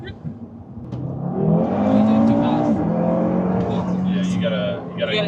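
An Audi RS3 with a Stage 1 E85 tune accelerates hard out of a corner, its engine note rising loudly and holding strong, with excited voices talking over it from inside.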